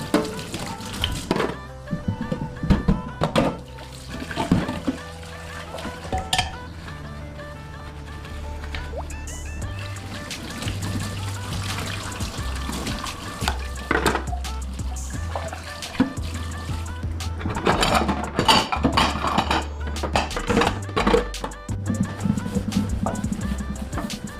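Washing and cleaning up in a home kitchen while cooking: running water trickles and splashes, and dishes and utensils clatter intermittently over a low steady hum throughout.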